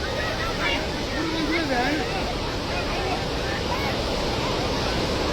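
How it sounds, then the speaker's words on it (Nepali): A flooded river rushes after a dam burst in Nepal, a loud, constant roar of churning water filling the whole scene, with excited voices shouting over it. "खोला कत्रो आयो है"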